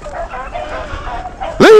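Hunting dogs chasing rabbits bay in a noisy mix of yips and howls, ending in one loud, close bark, with someone talking underneath.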